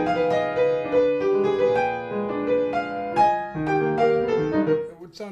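Solo piano plays a phrase from Scriabin's Album Leaf Op. 45 No. 1 with layered chords and sustained notes, close and steady in level. The phrase ends with a brief fade.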